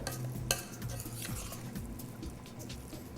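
Parmesan cheese is stirred into wild mushroom and edamame risotto in a pan, a continuous soft wet scraping and gentle sizzle with a light utensil clink near the start.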